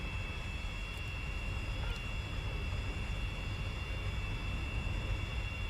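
In the War Thunder video game, a jet aircraft engine runs at about half throttle, a steady, faint, even roar with a thin high whine, unbroken throughout.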